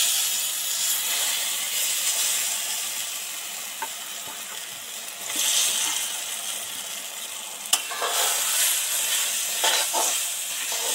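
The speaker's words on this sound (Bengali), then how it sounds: "এবার এই তেলের মধ্যে যে গ্রাইন্ড করেছিলাম সেই ডালটা দিয়ে দেব।" Ground chana dal hits hot oil seasoned with asafoetida, giving a close, steady sizzle with surges of hissing and a few sharp stirring clicks, no talking.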